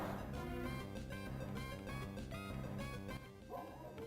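A dog in a video game barks and yips repeatedly in quick bursts, mixed in with steady game music and effects.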